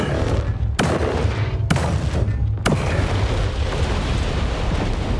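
An artillery weapon firing in the video game War Robots: Frontiers: three sharp, evenly spaced booming shots about a second apart over a loud, continuous rumbling background. No one speaks.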